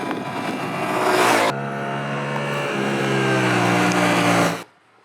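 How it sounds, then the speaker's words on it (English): A 2022 Yamaha R7 sport motorcycle with a revised airbox and cable-operated throttle, its raucous engine revving hard and close: a rising whine, a sharp gear-change drop, then a sustained climbing roar that cuts off abruptly. "Changes have been made for this year with the airbox, and it is a more raucous sounding engine."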